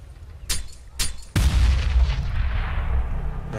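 A grenade goes off in Counter-Strike: two sharp shots lead into a loud, close blast at about 1.4 seconds, followed by a long rumbling decay.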